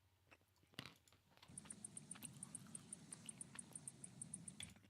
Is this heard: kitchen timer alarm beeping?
no